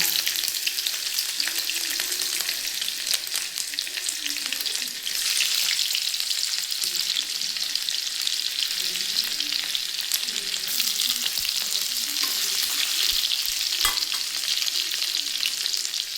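Ginger and capsicum sizzle in a hot pan, a dense steady crackle of frying oil with occasional stirring scrapes, close and continuous with no voices.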